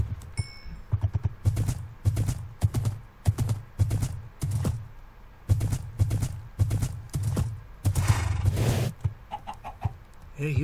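In Minecraft, a horse gallops in steady repeated bursts of thudding hoofbeats, loud and close, pausing briefly between runs, with a short rushing whoosh near the end.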